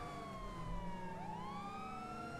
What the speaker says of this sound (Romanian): Dau drumul la sirene.